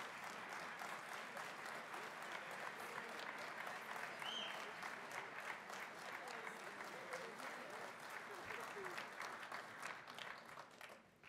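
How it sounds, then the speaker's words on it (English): Sustained audience applause at an awards presentation honoring past Bowerman winners, a steady wash of clapping from a large crowd heard at some distance, fairly quiet throughout. "Please give a round of applause for the past winners of the Bowerman"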